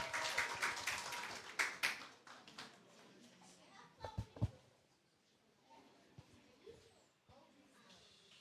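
An audience at a primary school national reading competition claps for a young reader, sharp applause that peaks early then thins into scattered claps and soft murmurs of children's voices.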